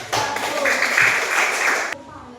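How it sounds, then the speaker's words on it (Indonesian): A class of fifth-grade elementary schoolchildren claps for one discussion group in a school lesson, a dense burst of applause lasting under two seconds before cutting off. "Tepuk tangan buat kelompok 1."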